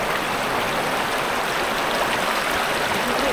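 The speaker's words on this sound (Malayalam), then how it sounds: "ഈ വെള്ളം ഇങ്ങനെ ഒഴുകുന്നതിന്റെ സൗണ്ടും ഒക്കെ കേട്ട്" Water from a forest stream rushes steadily over rocks in a slippery, pitted rocky spot, a dense continuous broadband wash close by with no talking.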